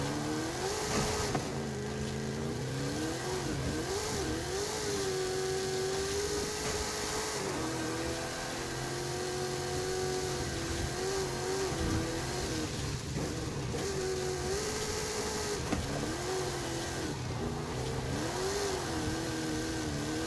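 Sports car engine in Forza Horizon 5, revving continuously with rising and falling pitch sweeps, loud and close throughout with no talk.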